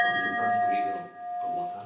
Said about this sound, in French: vous pouvez entendre le son de la cloche de Coruche qui n'a pas été entendu depuis le